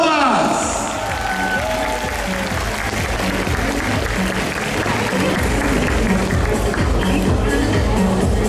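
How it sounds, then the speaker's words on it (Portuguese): Hall audience at a cosplay award ceremony during a gaming convention's Saturday prize-giving breaks into loud, sustained applause, with crowd voices mixed into the continuous clapping throughout. "E uma salva de palmas!"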